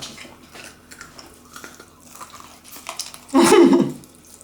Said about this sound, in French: C'est quoi cette façon de mâcher là?